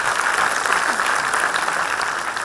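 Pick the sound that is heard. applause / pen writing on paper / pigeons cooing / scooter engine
applause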